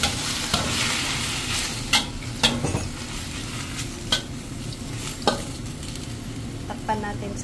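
Choi sum and garlic are stir-fried in a pan, giving a steady sizzle broken by several sharp scrapes and clinks of the utensil against the pan. No one speaks.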